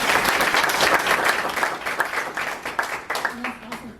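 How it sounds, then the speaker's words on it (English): Applause at a Toastmasters meeting for the evening's Toastmaster: a loud burst of clapping that gradually thins out, with a voice briefly audible near the end as it fades. "give her a round of applause"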